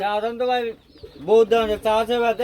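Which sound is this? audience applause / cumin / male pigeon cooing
male pigeon cooing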